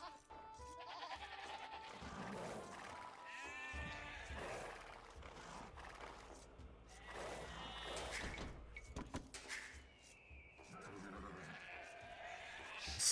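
Sheep in Age of Empires 2 bleating several times amid in-game clatter, faint speech and a thud or two, the calls fairly close and intermittent.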